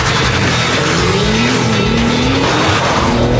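A Porsche 911 GT2 launches from a standstill with launch control, its engine note climbing loud and close through the revs, with a brief tire scrabble at the start and no talking.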